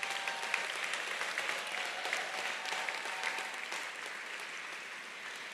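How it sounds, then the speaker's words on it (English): A steady, dense round of audience applause fills the hall at an engineering graduate recognition ceremony, sustained clapping at moderate level without speech, tapering slightly toward the end. "Let's have one last big round of applause for everyone."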